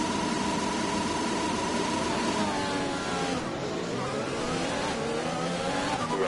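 F1 2020 racing game with the race car's engine revving steadily through the gears on the Italy circuit, a loud continuous whine climbing and dropping in pitch, with no pauses across the whole stretch.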